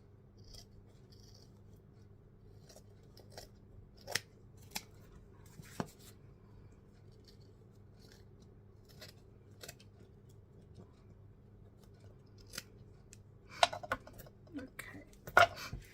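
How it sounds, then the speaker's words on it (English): Scissors cut lace in a quiet room, giving a few sparse, faint snips and clicks scattered throughout, with a small cluster of sharper cuts near the end. "Cut that off."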